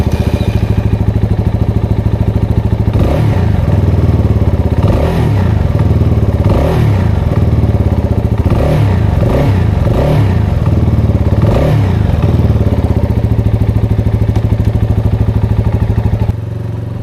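A CFMoto 250 CLC motorcycle engine runs close by and loud throughout, with a steady throbbing idle and several rhythmic revving swells in the middle before it settles back down.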